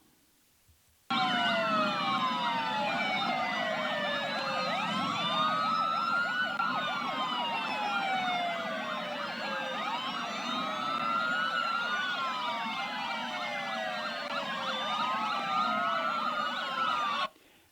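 Many police sirens wail at once, overlapping in loud rising and falling sweeps that start abruptly and continue steadily before cutting off.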